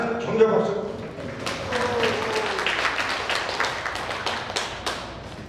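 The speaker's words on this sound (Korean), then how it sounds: "많은 격려 박수" Audience applause at a redevelopment association meeting after a board candidate is introduced: scattered claps that build into a steady patter of many hands, with talk over the start.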